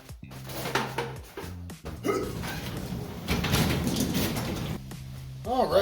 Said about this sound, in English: Shut the door so the bugs don't land on it.